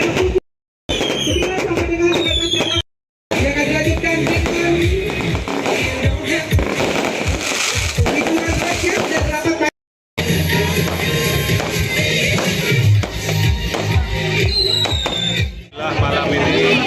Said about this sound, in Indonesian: kemudian dilanjutkan dengan pesta kembang api